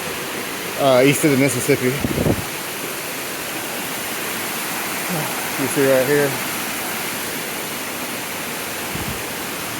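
Amicalola Falls in Georgia, a tall cascading waterfall heard from the approach steps, gives a steady rushing roar throughout. Someone talks over it in two short stretches.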